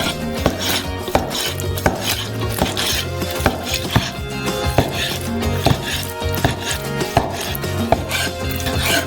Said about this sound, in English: you cut the already cleaned fillet into cubes